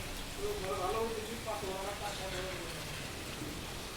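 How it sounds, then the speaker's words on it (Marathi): Heavy rain pouring down in Lamjana village in Latur, a steady broadband hiss that persists throughout, with a voice talking over it near the start. "खूप मोठा असं पाऊस या ठिकाणी चालू झालेला आहे"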